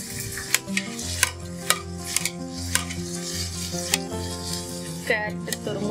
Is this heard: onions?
yes